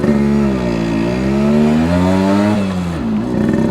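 A 1974 Yamaha RD60 small two-stroke motorcycle engine revving up and down in rising and falling sweeps, then lurching as it is accidentally put in gear, loud and close with no talk.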